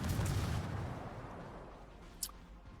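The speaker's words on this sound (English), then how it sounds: "Battleship Nagato is actually getting some shell hits in" Battleship Nagato's heavy naval shells striking a target in World of Warships, a deep rumbling boom that decays over a second, followed by a sharp, brief crack, with no talk heard.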